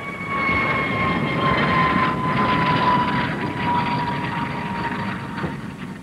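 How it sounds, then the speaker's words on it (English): A high-speed research turbojet aircraft passes with a steady, loud jet roar and a thin whine on top that holds throughout, with no talking. "Here's a high-speed research turbojet aircraft."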